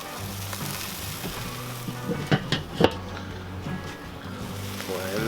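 Chicken wings sizzle steadily on a Weber kettle grill, with a few brief clanks and scrapes as the pieces are flipped, the frying hiss continuing throughout.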